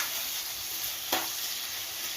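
Eggplant fry sizzling in oil in a pan as salt is stirred through it: a steady, close frying hiss with one brief scrape of the spoon partway through, no voices.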